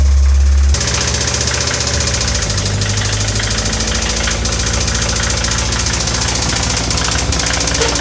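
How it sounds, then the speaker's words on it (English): A 1988 Toyota MR2 AW11 engine idling steadily and close by, with a rapid mechanical ticking running through the mid-range hum after a brief louder burst at the start; no talking. "Do we think the ticking noises are external, or something like on the timing belt"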